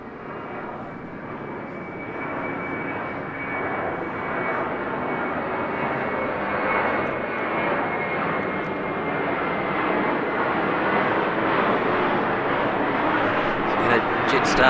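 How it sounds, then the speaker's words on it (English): Jetstar airliner engines roar during a go-around at Christchurch Airport in foggy conditions, a steady distant jet drone that slowly swells in loudness, with a person talking over it. "Jetstar 287 to the list of go-arounds."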